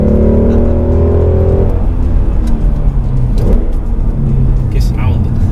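A Ford Mustang 5.0 V8 revs loudly and close, its engine note climbing and then dropping off before further throaty bursts of throttle.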